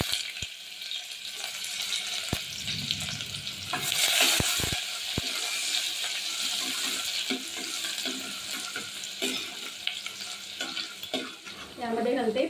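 Finely chopped onion hitting hot oil with golden-browned garlic in a pan, a continuous sizzle and frying hiss with stirring scrapes and a few sharp clicks, close and steady with no voices.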